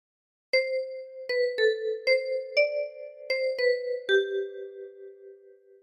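A ten-key kalimba plays the opening phrase of All Through the Night: eight separate plucked metal tines, clear and close, each chiming with a bright attack and a ringing decay, the last note fading out slowly, with no talking.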